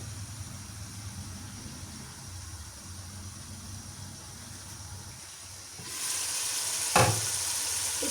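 Chicken pieces sautéing in a pan for chicken noodles, a steady broadband sizzle that jumps louder about six seconds in as they hit the hot oil, with a brief clatter near seven seconds.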